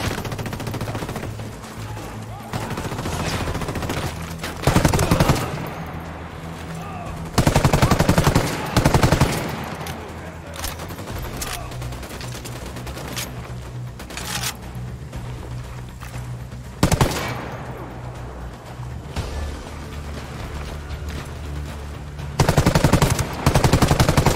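Bursts of automatic gunfire in the shooter game Ghost Recon Wildlands, loud rapid volleys recurring every few seconds against a constant rumbling backdrop, with brief louder peaks.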